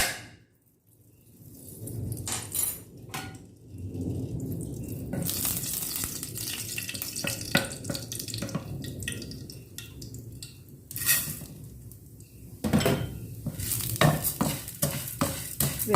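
Thick vermicelli roasting in a tablespoon of desi ghee while being stirred, giving steady scraping and rustling strokes over a soft, continuous sizzle, close by with no talking.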